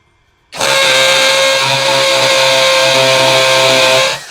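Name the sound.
DongCheng DCPL165 cordless impact driver drilling in hammer mode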